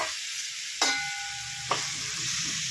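Washed dried shrimp stirred into a fried onion-tomato masala, a gentle steady sizzle with two sharp clinks of a spoon against the pan, close by and without speech.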